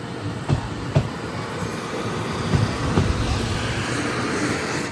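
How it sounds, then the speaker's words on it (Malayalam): An express train pulls out of a station, heard from inside a general class coach: a steady low rumble with a few soft knocks from the couplings, holding at moderate volume. "ഇപ്പോൾ വണ്ടി എടുത്തു"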